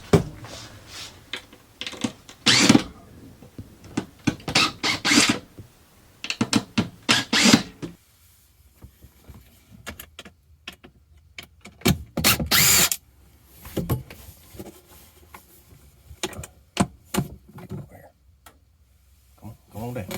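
A power driver backs screws out of an angle bracket fixing a motorhome couch to the floor, in quick rattling bursts and short whirs spread unevenly, close up, with someone talking in between.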